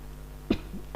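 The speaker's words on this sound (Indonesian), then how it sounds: "Maaf batuk." Two short, soft coughs about half a second apart against a steady low hum.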